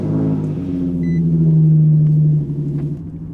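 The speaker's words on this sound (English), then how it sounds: "this is gonna be the first time that I drive the G35" Infiniti G35 fitted with a new single-piece aluminum driveshaft pulls away, its engine giving a close, deep rumble that rises through a rev and then drops off, with no speech.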